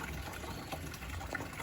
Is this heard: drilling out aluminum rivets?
no